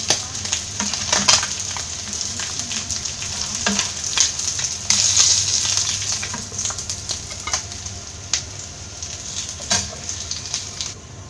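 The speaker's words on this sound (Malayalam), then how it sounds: "ബാക്കിയുള്ളതും ഫ്രൈ ചെയ്തെടുക്കാം." Mullan fish fry in hot oil, Kerala style, giving a steady, dense sizzle with a few louder crackles and spatters, close and alone with no talking.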